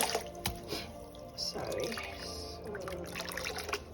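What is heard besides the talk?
washing fumbwa leaves in water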